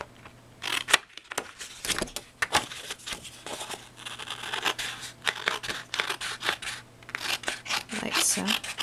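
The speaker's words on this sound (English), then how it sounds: "I'm gonna cut that right above the blue." Scissors cutting through card stock while making a Christmas elf gift card holder, with repeated close crisp snips and rustling paper handling in an uneven rhythm, some faint talking in the background.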